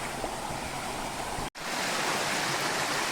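A forest stream in the rainy hill country of Konkan rushes in a steady, dense wash of flowing water, close and fairly loud, with one brief dropout midway and no voices.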